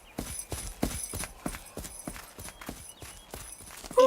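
Cartoon shoe footsteps patter in a quick, even pit-pat rhythm, a dozen or so light, crisp taps in sequence, fairly faint and clear with no talk over them.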